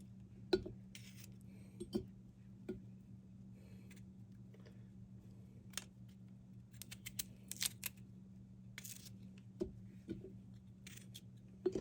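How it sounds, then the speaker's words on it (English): Knife slicing potatoes into chunks for canning, a few sharp cuts and taps on a board spaced through the stretch over a steady low hum, with no talking. "So I'm going to keep cutting up those about that size"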